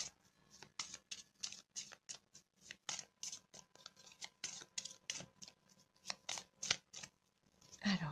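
A tarot card deck being cut and shuffled close up, with rapid irregular riffles, flicks and papery slaps in quick succession, and a quiet voice speaking at the very end.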